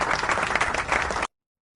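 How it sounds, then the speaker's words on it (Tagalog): A church congregation bursts into applause, dense steady clapping filling the space at full strength for about a second and a quarter before cutting off abruptly into silence. "Bigyan natin ng palakpak ang Panginoon."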